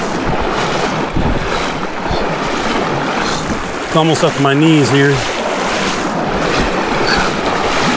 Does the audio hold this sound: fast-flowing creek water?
yes